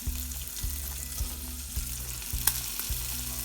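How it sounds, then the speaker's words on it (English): Mushrooms sautéing in a little butter for savory oatmeal, a steady close sizzle with low rhythmic scrapes and pulses repeating every half second or so, plus one sharp clink near the end; no voices. "let's go ahead and saute the mushrooms"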